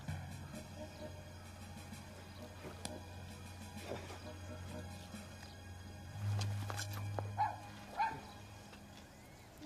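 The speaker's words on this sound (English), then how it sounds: "It's no monster. That's a puppy." A small puppy gives a few short yips and barks, near and moderately loud, over a steady low hum of background room tone, with the sharpest yelps coming late.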